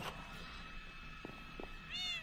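Cats meowing inside the Minecraft video game, a short game-style meow near the end of the clip after a few faint soft clicks, heard alone with no talk.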